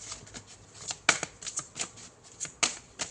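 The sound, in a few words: shuffling tarot cards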